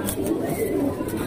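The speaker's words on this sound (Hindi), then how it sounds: "ये कलसरा कबूतर देखो आप।" Kalsira pigeons coo softly in low murmurs close by, with faint rustling and some background noise around them.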